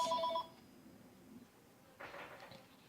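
A telephone rings in a short bright burst at the start, then cuts off and leaves quiet room noise and a faint shuffle near the end.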